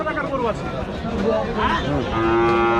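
Cattle lowing at a Rajshahi livestock market, several loud close moos with harmonic bellows overlapping amid crowd noise, one long sustained moo near the end.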